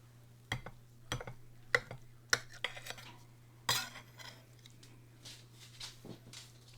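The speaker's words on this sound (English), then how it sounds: "So, let's just cut a slice and see." A knife and utensils clink and scrape against a dish while a slice of glazed meatloaf is cut, giving a handful of sharp, close taps and scrapes spaced irregularly over a low steady hum, with no talking.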